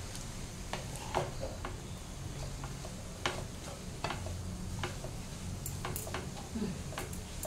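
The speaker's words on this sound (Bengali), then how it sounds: "তো আমি এভাবে মিক্স করছি আস্তে আস্তে।" Hakka noodles with vegetables being gently mixed in a hot pan, soft steady sizzling under a run of light scraping and clicking strokes at an unhurried pace.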